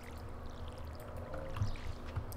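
Watering crops with a watering can in the Stardew Valley video game, a soft pouring trickle of water with small splashes, steady and fairly quiet under low background music.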